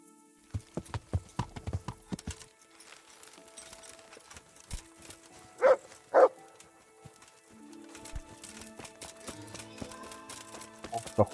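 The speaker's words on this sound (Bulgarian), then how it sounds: "Това куче ме стресна." A dog in Kingdom Come: Deliverance lets out two loud, sharp barks in quick succession, set against a steady run of clip-clopping hoofbeats and quiet background ambience.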